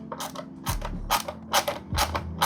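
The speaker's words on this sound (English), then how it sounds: "I'm also using my stubby ratchet and not my long handle one" A stubby ratchet clicks in quick bursts while tightening small 10mm valve cover bolts, giving close, crisp metallic ratcheting with short pauses between strokes.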